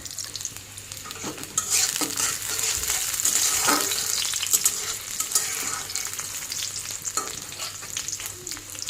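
Chopped onion browning in a little oil for a rohu fish curry, with a loud continuous sizzle broken by repeated spatula scrapes and stirring strokes close by, no voices.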